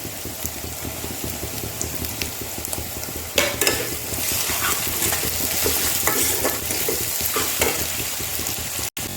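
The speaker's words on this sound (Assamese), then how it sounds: "এতিয়া মই ইয়াতে দিম আদা নহৰুৰ পেষ্টখিনি প্ৰথমতে দি আৰু অলপ ভাজিম" Ginger-garlic paste frying with onions in a pan for an Assamese-style duck meat curry, a continuous crackling sizzle with stirring scrapes, growing louder partway through before cutting off abruptly at the end.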